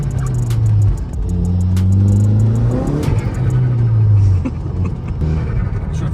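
A Dodge Caliber SRT-4 engine revs and accelerates hard from inside the car, loud rising rumbling pulls with turbo-like surge, easing back near the end.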